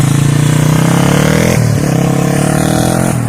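A Yamaha Warrior 350cc quad engine with a suspected carburetor or electrical problem revs loud and close, a sustained throaty drone that dips twice briefly as if shifting gears, then climbs again.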